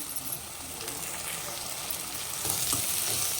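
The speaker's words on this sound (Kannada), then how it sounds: "ಈರುಳ್ಳಿ ಸ್ವಲ್ಪ ಈ ರೀತಿ ಕಲರ್ ಚೇಂಜ್ ಆದಮೇಲೆ 2 ಟೊಮೊಟೊನ ಚಿಕ್ಕದಾಗಿ ಕಟ್ ಮಾಡ್ಕೊಂಡು ಹಾಕ್ತಾ ಇದ್ದೀನಿ" Small-chopped tomatoes go into onions frying for a cabbage palya, giving a continuous close sizzle that swells slightly toward the end, with no clear talk.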